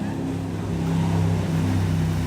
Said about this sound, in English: you might get hit by that boat over there.